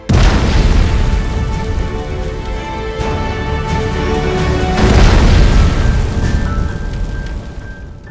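A loud, sustained roaring blast from a Boeing 707 airliner crashing into a hillside and tearing through trees, a dense rumble that swells again midway and holds for about eight seconds.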